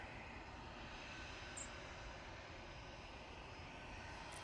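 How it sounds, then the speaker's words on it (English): An easyJet airliner on approach to runway 3 left at Manchester Airport, a faint, steady distant engine drone holding even throughout with no voices. "Easyjet now coming on to 3 left."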